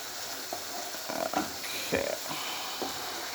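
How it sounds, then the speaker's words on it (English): Mince and black beans sizzle in a pan, a steady frying hiss broken by a few scraping strokes of a spoon as the mixture is stirred, close and moderately loud. "Give it a good stir."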